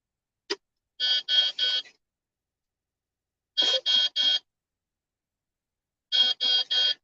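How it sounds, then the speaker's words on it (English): Electronic beeping at a busy trucking yard, heard through an open cab window: three clusters of three short, evenly spaced beeps separated by pauses, fairly loud and clear with no talk over them. "You're gonna hear beeping."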